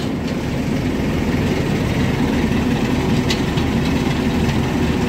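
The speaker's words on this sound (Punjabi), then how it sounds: "ਆ ਦੇਖ ਲਓ ਰੌਂਡ ਕਿੰਨਾ ਲੈ ਰਿਹਾ ਇੰਜਣ" A small four-cylinder engine idles steadily just after being started with three batteries, giving a continuous low rumble that stays close and fairly loud for the whole stretch, with no talking.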